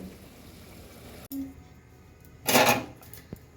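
A lid clatters onto a cooking pot of boiling dalia in a single loud metallic clank, followed by a faint tick, over a low kitchen background.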